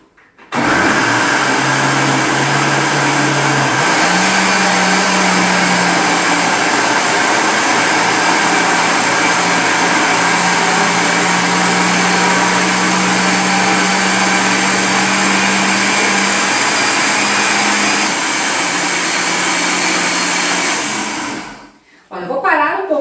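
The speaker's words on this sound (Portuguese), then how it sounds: "Então eu vou colocar aqui nosso liquidificador" A kitchen blender whirs at full power through gluten-free bread batter, a loud steady motor drone that shifts pitch slightly as the load changes, then cuts out near the end.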